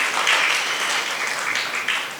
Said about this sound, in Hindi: हमने ताली बजाई